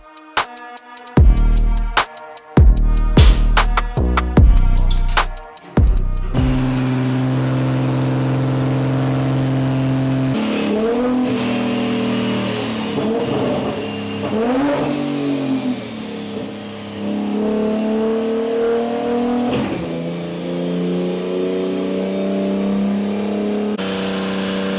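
A BMW G87 M2 fitted with a turbo kit barks through a series of sharp revs, then settles into a sustained drive with rising and falling engine pitch as it accelerates and shifts, loud and close.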